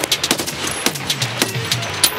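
Rapid, moderately loud gunfire in Escape From Tarkov, a scav shooting in a steady stream of sharp shots with no voices over it.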